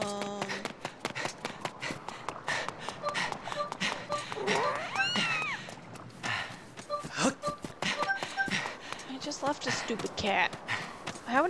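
Cat meowing in The Legend of Zelda: Skyward Sword at night, a few drawn-out meows and a caterwaul amid game footsteps and chimes, with someone talking over much of it.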